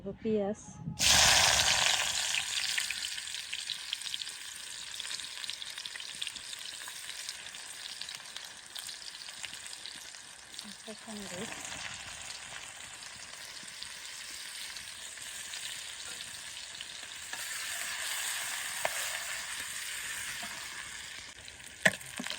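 Onions frying in oil in a wok, starting with a loud burst of sizzle as they hit the hot oil, then a steady hissing fry with occasional stirring, while a person talks over it.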